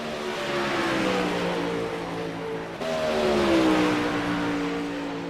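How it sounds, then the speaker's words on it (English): A race car engine revs at a racing event after the green flag, a loud, steady mechanical drone whose pitch sags and climbs, jumping sharply higher partway through as the throttle opens again. "William Evans, I try to get over the car sound, you know."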